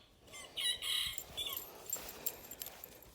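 Chickens cluck faintly from a little distance on a farm, a few short calls in the quiet outdoor air.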